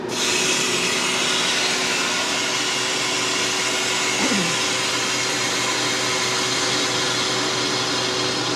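A freeze dryer's vacuum chamber venting air through its opened drain valve, a loud steady broadband hiss that holds evenly for the whole stretch with one brief shift partway through.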